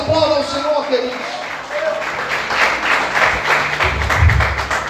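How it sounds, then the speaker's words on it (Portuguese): A church congregation claps at a Brazilian evangelical service, the applause building into a dense, steady patter over the last few seconds after a preacher's voice rings out at the start. "Glória a Deus, aplauda ao Senhor, queridos."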